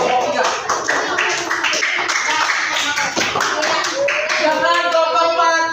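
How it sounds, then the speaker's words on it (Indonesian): Classmates clap for group 3 after a floor gymnastics forward-roll session: loud, close, brisk clapping from a group of students, sustained throughout, with children's voices calling out over it. "Beri tepuk tangan untuk kelompok 3."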